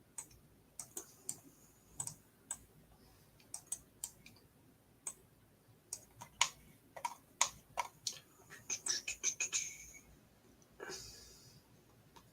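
Crisp mouse or key clicks while designing on a computer, sparse single taps at first, then a quicker cluster of clicks, close and quiet against near silence.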